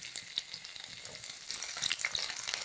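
Green chillies and garlic frying in hot oil with curry leaves, a soft, fairly faint crackling sizzle with small spits and pops, no talk.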